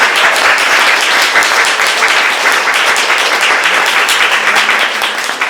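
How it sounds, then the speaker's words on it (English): A loud, close wall of audience applause at an evening live show, continuous dense clapping sustained for the whole stretch with no voices over it. "Big round of applause please for everyone who's here tonight"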